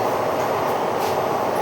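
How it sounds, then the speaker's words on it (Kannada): Inside a moving train, a dense, steady rumble fills the brief moment at close range, with passengers chatting beneath it. "ಟ್ರೈನ್ ನಿಲ್ಸಲ್ಲ ಭಾಳ ಹೊತ್ತು."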